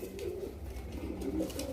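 A large black-tailed male pigeon coos softly in low, rolling phrases that repeat across the moment, close by and fairly quiet with no talking.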